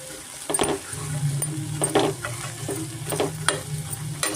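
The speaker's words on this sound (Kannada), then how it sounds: "ಮೊಳಕೆ ಕಾಳು ಅದನ್ನು ಸ್ವಲ್ಪ ನಾನು ಎಣ್ಣೆನಲ್ಲೇ ಫ್ರೈ ಮಾಡ್ಕೊತೀನಿ" Sprouted horse gram fries in oil for sambar, giving a steady sizzle with a low bubbling hum beneath it and several sharp scraping stirs at irregular intervals, close and fairly loud.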